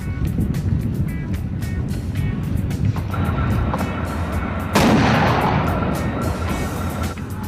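Coaxial machine gun fire from a Leopard tank during gunnery testing against targets, a rapid string of sharp reports over a low engine rumble, with a louder, heavier blast partway through.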